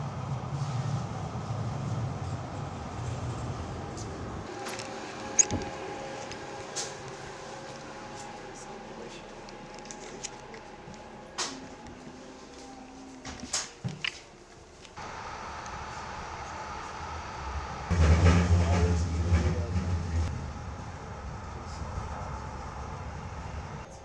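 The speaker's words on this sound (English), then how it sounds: "Next train arriving. Please stand behind the yellow line." A train on the Wolverine Lynx Railroad rumbles through the station with low mechanical hum and brake squeals, then a heavier roar builds as it pulls in nearby.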